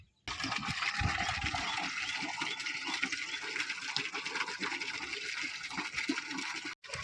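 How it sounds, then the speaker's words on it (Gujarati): Water gushes steadily from a pump pipe into an empty stone tank at a village home, drawn by a motor lowered into a neighbour's well, a loud continuous rushing splash with no pause. "હાલો ભાઈ તો જો પાણી આવી ગયું છે"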